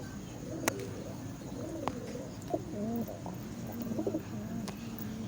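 A pigeon coos softly several times at close range, low rolling calls over a steady background hum with a few sharp clicks.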